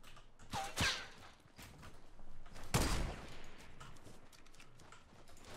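Gunfire in a Fortnite Battle Royale match, with two sharp shots standing out, one near the start and a louder one midway, over a low rumble of scattered game noise.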